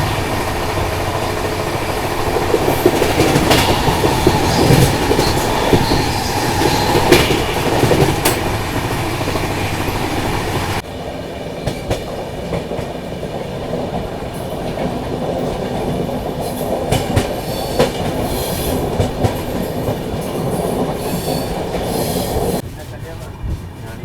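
The Mahakoshal Express runs along the rails near Kosi Kalan station in a loud, continuous rumble with clattering wheels, dropping to a quieter, steadier roll about halfway through.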